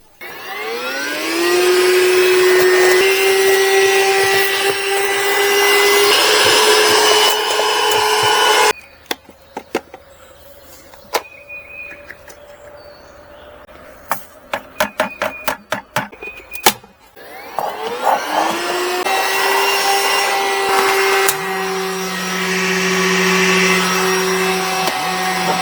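A VacLife handheld rechargeable vacuum with a motorized brush whines loudly as it sucks up sand, then switches off while scattered grains tick and rattle, before the motor whirs back up to full speed.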